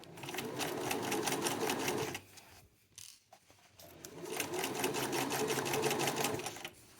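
A sewing machine runs in two fast, steady stitching bursts through a jacket undercollar over the shoulder seam allowances, separated by a short quiet pause with a faint handling knock.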